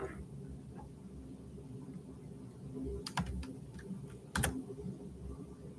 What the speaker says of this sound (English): I'm about to type it in.